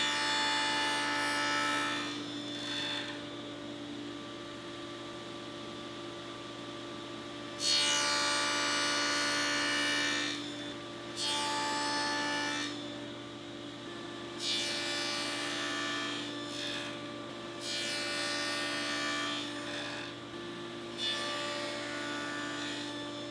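Table saw with a stacked dado set cutting a shoulder in wood for a through tenon, its steady motor hum broken by several loud rasping cutting passes of a few seconds each, no one speaking.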